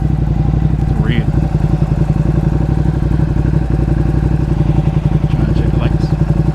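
A 2020 Ducati Panigale V2 on a road ride throbs with a loud, steady, rapid engine pulse close by, with a constant low rumble and faint chirps over it.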